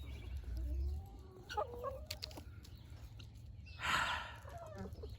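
A rooster kept on a homestead flock with barred rock chickens gives a short crow-like call near the start and a louder raspy burst around the fourth second, with low clucking and farmyard rumble throughout.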